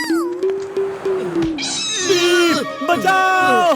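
A cartoon cat from the animated series Vir The Robot Boy meows loudly in drawn-out, wavering cries that rise and fall, repeated several times up close.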